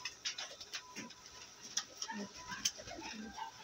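A pet fancy pigeon that has been sick coos softly in a loft, faint low murmurs scattered among light ticks and taps, with quiet background noise throughout.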